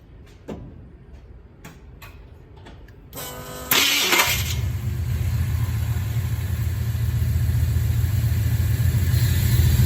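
A few clicks and knocks, then the engine of a 1965 Ford F100 truck cranks and fires up, settling into a steady, loud rumbling idle close by.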